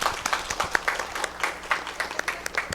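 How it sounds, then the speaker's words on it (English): A round of applause at a student government meeting: a small group claps in scattered, uneven bursts for a few seconds, with no talking. "I think it's due to give her a round of applause."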